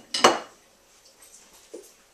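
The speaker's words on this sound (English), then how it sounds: "I have cut up the sausage, and I will just dump it on top there." Cut-up andouille sausage tumbles into a pot in one clattering dump, with a brief rattle against the metal, then quiet and a small clink near the end.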